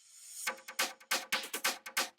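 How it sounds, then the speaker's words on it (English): A short programmed drill-beat drum fill enters after a faint tail: a run of punchy, evenly spaced hits with crisp high snap and some low body, played alone at close range. "And then the second drum fill sounds like this."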